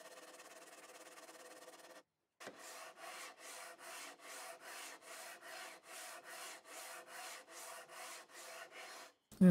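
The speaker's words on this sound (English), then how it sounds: "sand away the excess using a leveling beam" Excess thin CA glue is sanded off a bog oak and flame maple guitar with a leveling beam, a steady rhythmic rasp of back-and-forth strokes, about a dozen even passes, close and moderately loud.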